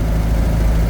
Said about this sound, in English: that's going to rev that engine